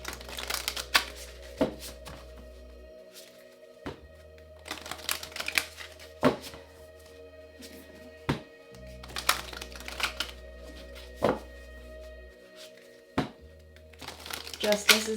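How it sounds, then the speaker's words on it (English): Cards are shuffled and drawn from a symbols deck during a tarot-style reading, giving soft papery riffles, slaps and flicks at irregular intervals over a low steady hum, with a voice speaking now and then. "let's get a few cards out of the symbols deck."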